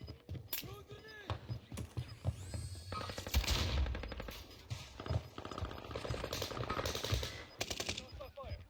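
Bursts of automatic and single gunfire from the Warzone video game crackle in quick clusters at moderate level, with some mechanical clicks and a voice speaking among the shots.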